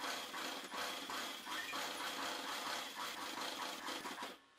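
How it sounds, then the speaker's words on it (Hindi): A sewing machine stitches close along the edge of a ladies' kameez with buckram laid on the fabric. It runs steadily at close range for about four seconds, then stops near the end. "सिलाई हम बिल्कुल किनारे किनारे लगाएंगे।"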